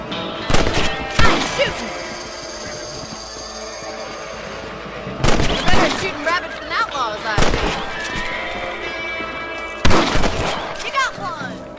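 Rifle shots aimed at rabbits ring out in the Western video game Red Dead Redemption, with several loud, sharp reports spaced a few seconds apart. Each crack trails into an echo, and a voice speaks between the shots.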